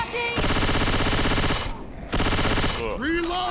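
Automatic gunfire in the zombie shooter game Left 4 Dead: two long sustained bursts of rapid machine-gun fire separated by a short pause, loud and close, followed by shrill game creature sounds.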